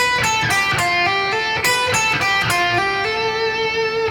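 An electric guitar plays a quick run of picked and hammered notes, stepping downward in pitch, close and clear with no talking.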